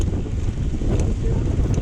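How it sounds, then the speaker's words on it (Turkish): Strong wind buffets the microphone during a long road bike ride after rain sets in, a loud continuous low rumble with gusty surges and no talk. "20'yi geçemiyoruz şu an. O kadar rüzgar var."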